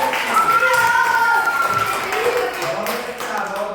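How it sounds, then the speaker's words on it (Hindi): Children clapping in a classroom during a Hindi alphabet lesson, a steady patter of hand claps mixed with young voices chattering over it. "ताली बजाइए।"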